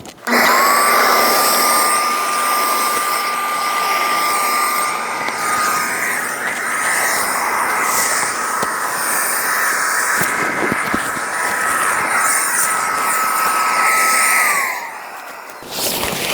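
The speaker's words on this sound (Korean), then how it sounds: "전 여기다가 꽂아가지고 바람을 넣어볼게요." An electric air pump inflates the beams of a 7-metre camping air tent, a loud, steady whirring drone that runs continuously at close range, then slows and winds down at the end.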